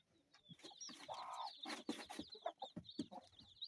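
A Kienyeji hen on a Kenyan farm clucks softly among her newly hatched chicks, with faint thin peeps that sound quiet and fairly close.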